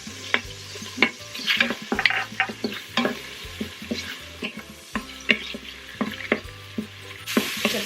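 Garlic stir-frying in oil inside an Instant Pot, a soft sizzle broken by repeated scraping stirs and light clinks of a utensil, close and fairly quiet.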